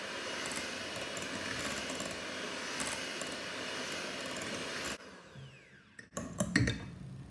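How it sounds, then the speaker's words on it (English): Homemade marshmallow mixture is whisked with a noisy electric whisk, a steady loud whirring drone that stops partway, followed by a few scattered clattering handling sounds. "It takes a few minutes, but just keep whisking away."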